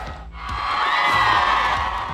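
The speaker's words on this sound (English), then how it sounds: "Great crowd from Ridge Point." A stadium crowd at a Ridge Point high school football game roars and cheers, a broad steady swell of voices holding loud over a couple of seconds with a faint whistle-like tone inside it.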